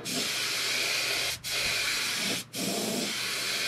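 Close, loud hiss of an aerosol spraying a thin coat of touch-up paint, held steadily with two brief breaks where the nozzle is released.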